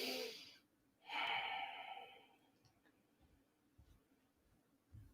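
A single deep breath during yoga practice, a quiet airy inhale and exhale close to the microphone, followed by faint rustling in a calm room.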